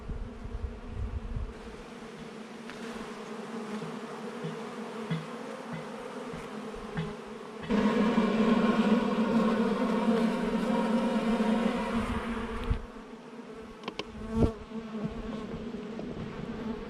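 Bees buzz steadily at an open hive on a Portuguese farm, where the colony is queenless and has no brood. The close, continuous insect hum swells louder for a few seconds midway.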